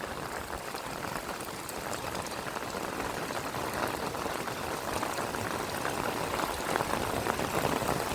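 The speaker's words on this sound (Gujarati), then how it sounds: "અને હજી તો વરસાદ આવે હે" Rain pouring down over farm fields in a Dwarka village. A dense, continuous hiss of falling water holds an even loudness throughout, with no voices.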